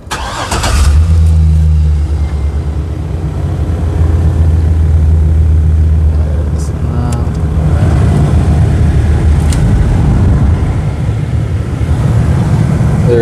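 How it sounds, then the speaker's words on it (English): A 2011 Chevrolet Silverado 2500 HD pickup cranks and its engine catches, then settles into a loud, steady idle heard up close for several seconds. "we are going to start up the truck"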